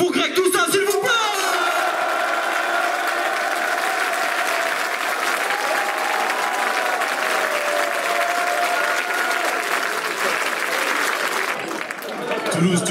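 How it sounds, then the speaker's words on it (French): A live comedy show crowd in Toulouse applauds and cheers for a comedian, with dense continuous clapping, whoops and yells that hold steady for several seconds before tapering at the end. "Je vais vous demander de faire un maximum de bruit pour Greg Toussaint, s'il vous plaît"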